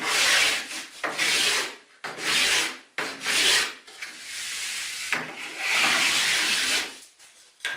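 A hand scraper works along pine baseboard molding in repeated rasping strokes, about six passes with short pauses between them, close and fairly quiet, with no talking.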